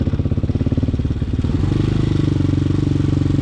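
A Hawk 250cc motorcycle coming to an emergency stop, its engine thumping in a close, steady rhythm that shifts to a smoother, denser drone partway through, with no talk.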